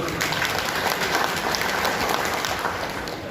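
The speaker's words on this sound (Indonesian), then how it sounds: "Tepuk tangan dulu." A gathering of an association's members gives steady, moderately distant applause, an even wash of many hands clapping without a break.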